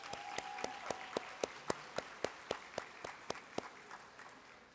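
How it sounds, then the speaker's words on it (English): Applause for career and technical education teachers at a high school completers ceremony, heard as a steady run of evenly spaced sharp claps, fairly close and moderately loud, with no talking over it. "So a round of applause for our CTE teachers."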